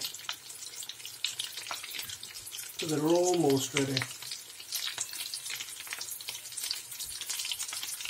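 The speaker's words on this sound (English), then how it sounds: "Once they're in the frying pan, it doesn't take long at all." Steady crackling sizzle of potato chops (aloo chop) frying in a pan, with a brief spoken remark partway through.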